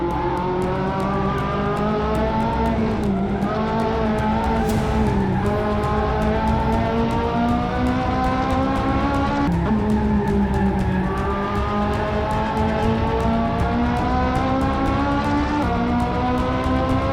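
A Ferrari 458 races in the video game Assetto Corsa, its engine screaming continuously at high revs with rapid gear-shift dips and brief tire squeal, loud and close throughout with no talking.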